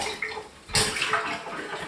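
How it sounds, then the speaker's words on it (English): Running water splashes from a tap as a bowl is rinsed, a brief burst of louder gushing midway through the short stretch of flowing water. "Rinse the bowl out quickly."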